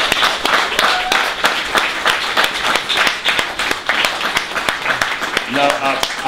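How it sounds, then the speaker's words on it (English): Audience applause following an interview segment with a basketball coach, a dense run of clapping that fills the whole stretch, loud and close, with a bit of voice near the end. "Round of applause for that."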